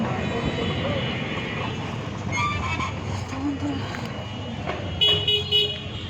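Dense road traffic stuck in a jam under heavy cloud, a steady broadband rumble of engines with scattered car horn toots, a louder burst of honking near the end.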